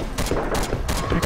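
Machine gun fire in BrainBread 2 rattles in quick bursts of sharp repeated shots, loud and close over busy game noise.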